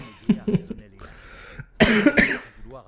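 A person coughs close to the microphone in two bursts of harsh, repeated coughs, with talking between them.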